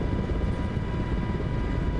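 MH-60 helicopter in a flight video game during a sea rescue mission gives a steady, loud rotor and turbine drone with a constant whine, heard alone without talk.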